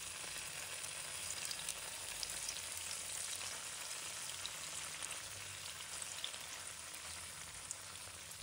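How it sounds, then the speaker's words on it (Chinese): Pieces of tofu sizzle steadily in hot cooking oil in a wok, a close, continuous crackling hiss with small pops and no talking. "油热之后，我们把豆腐一块一块的放入锅中"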